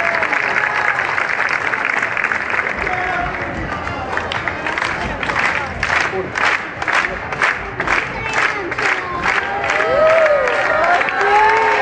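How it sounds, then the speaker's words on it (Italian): Theatre audience at a festival stage show in Foggia breaks into loud applause and cheering, rhythmic clapping swelling with crowd voices and shouts over about twelve seconds. "fai un applauso spaventante"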